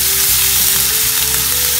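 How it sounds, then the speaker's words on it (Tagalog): Seven cloves of garlic saute in hot oil in a pan, with a loud, continuous close-up sizzle and crackle, alone and without talking. "But I only saute the half of coriander."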